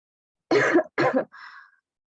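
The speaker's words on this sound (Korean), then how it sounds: "코로나 때문에 아직 기침이 남아있어요" Two short, harsh throat-clearing coughs close together from a person with a lingering post-COVID cough, followed by a softer, breathy rasp trailing off, then quiet.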